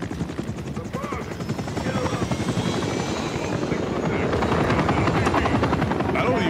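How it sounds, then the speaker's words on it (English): Helicopter in the Call of Duty Modern Warfare 3 campaign, set in a frozen tundra, thumps with fast steady rotor chop that grows louder and closer over several seconds. "Board the helicopter."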